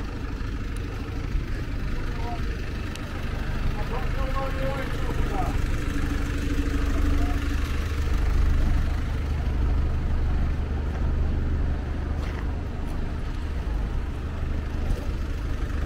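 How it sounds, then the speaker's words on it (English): Several cars, trucks and buses idle in a queue at a factory vehicle waiting area, a steady low engine rumble throughout with faint background activity. "All I can see is vehicles waiting to get in."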